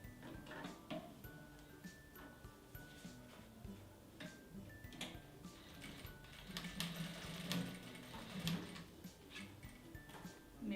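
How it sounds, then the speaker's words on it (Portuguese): A sewing machine runs stitches along a fabric strap near a zipper end for a phone accessory holder, a steady close mechanical whir with rapid ticking needle strikes in short bursts, no talking. "Vou passar uma costurinha aqui."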